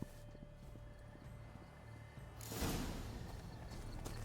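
A horse in The Witcher 3 walks with soft, rhythmic hoof clip-clops at low volume, followed by a brief rushing swell partway through.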